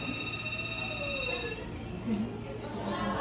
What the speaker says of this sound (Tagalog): May telepono